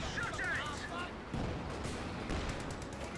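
Machine gun fire and battle noise in the Company of Heroes 2 strategy game, a dense, continuous wash of rattling shots and explosions at steady loudness throughout.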